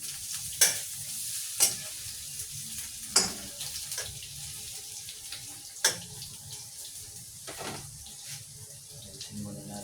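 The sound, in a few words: stirring eggplant in a pan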